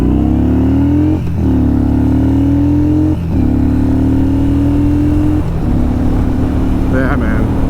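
A Yamaha Bolt R-spec motorcycle being ridden hard, its loud, close engine note climbing steadily through several gears with brief dips at each shift.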